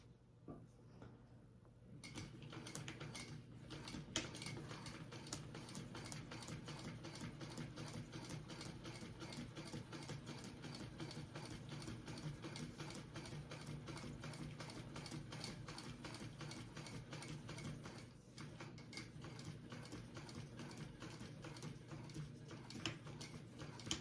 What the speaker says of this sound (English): I'm gonna do another row of stitching.